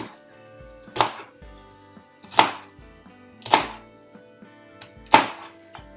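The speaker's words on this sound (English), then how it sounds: "So if you take your onion and cut it in half" A knife cuts through a halved onion on a cutting board in four slow, separate chops, each a crisp thunk about a second apart, close and clear with quiet pauses between.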